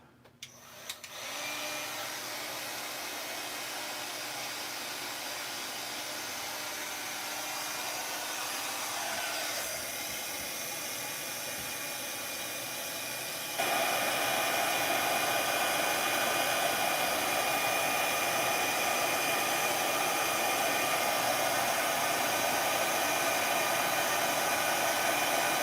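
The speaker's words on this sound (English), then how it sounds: "let's get our heat tool." A heat tool blows steadily for about 25 seconds, drying paint on a craft piece, with a loud continuous whooshing roar that jumps louder partway through and has no talking over it.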